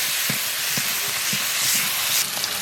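Diced pork frying in a wok with minced scallion, ginger, garlic and soybean paste, a dense continuous sizzle with a few soft scrapes of stirring, close and loud, no talking.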